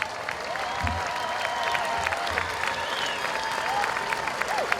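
Steady applause from a large crowd at a high school commencement, dense and continuous for the whole stretch, with a few faint voices and whistles mixed in.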